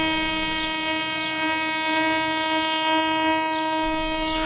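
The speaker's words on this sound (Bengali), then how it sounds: "পুরুলিয়া থেকে বিকেলের ট্রেনে বেগুনকোদরের দিকে রওনা দিলাম।" A train runs on the afternoon service from Purulia toward Begunkodar, giving a steady loud rolling drone with a sustained horn tone held throughout, and no voices.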